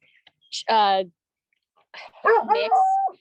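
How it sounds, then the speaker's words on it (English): A young mixed-breed dog, about a year old, gives a short, close alert bark, then after a pause a couple more quick yelping barks follow, sounding alert and fairly loud. "he's got a little bit of an alert bark"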